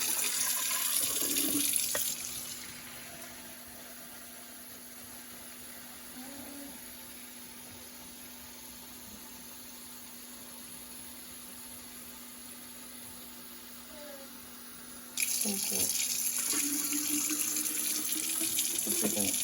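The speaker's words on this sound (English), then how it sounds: "I'm gonna get my 4 quarts of water in here." Tap water pours steadily into a container being filled with about four quarts for water glassing fresh eggs, a soft continuous splashing stream that starts and stops more loudly at the ends.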